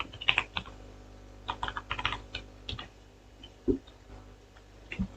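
Keys clatter on a computer keyboard in short irregular bursts of close, crisp taps with pauses between, while a Kali Linux attack simulation is set up, and no one speaks.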